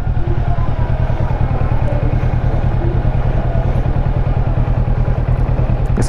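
A motorcycle engine runs steadily and loudly nearby with a rapid, even low-pitched thumping pulse while the rider maneuvers slowly around a rural sugar-mill area.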